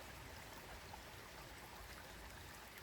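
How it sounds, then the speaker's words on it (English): Water in an Oxfordshire chalk stream trickles in a steady, even wash of soft babbling that holds unchanged throughout, fairly faint and with no voices. "the sound of the water trickling"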